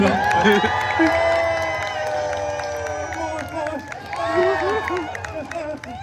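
Studio audience cheering and whooping at a comedic holiday story-time show, a loud crowd roar that swells and fades over several seconds with a voice talking over it.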